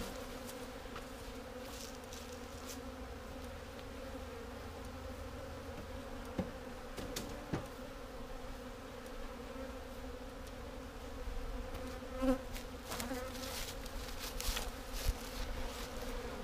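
Steady low buzzing of honeybees in an overwintered colony being readied for a split, a continuous hum from many bees close by with no talking.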